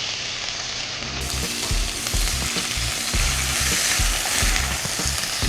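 Chicken sizzles in a pan with ginger garlic paste, giving a steady close crackling hiss broken by rhythmic scraping and stirring strokes, with no voices over it.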